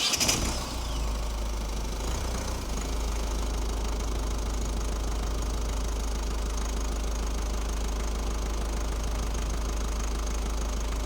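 A car engine idles steadily during a battery charging voltage test, a constant low hum and drone that carries on unbroken after a brief louder start.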